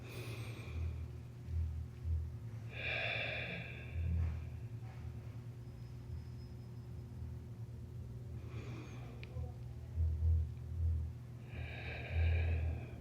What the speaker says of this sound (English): slowly start to exhale everything out